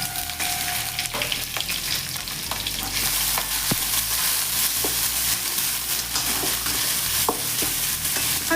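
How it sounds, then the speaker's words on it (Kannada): Masala spices, coconut and garlic frying in hot oil, a loud continuous sizzle with scraping stirring strokes and occasional clinks of the spoon against the pan, heard close up with no talking. "ಸ್ವಲ್ಪ ಫ್ರೈ ಮಾಡ್ಕೋಬೇಕು."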